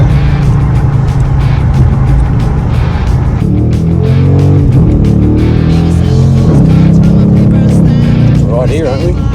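Hard acceleration on a motorcycle at Sturgis, the engine note climbing and roaring loudly with a brief loss of rear wheel traction, heard close and continuous throughout.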